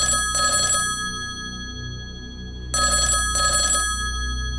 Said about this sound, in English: the house phone started ringing